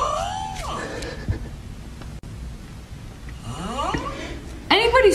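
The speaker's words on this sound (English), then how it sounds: "I thought he was singing when I woke up, but he was snoring." A man snores loudly while asleep, with harsh, rasping, wavering breaths that rise and fall in pitch and come in several bursts, and a loud final snore at the end.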